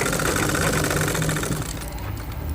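An electric sewing machine runs steadily, stitching an edge seam along the fabric of a school skirt, its continuous motor hum loud and close throughout with slight easing toward the end.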